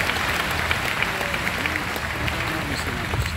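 Crowd clapping and cheering at an outdoor guitar clinic at GearFest in the rain, sustained dense applause filling the space, with voices talking and calling out underneath.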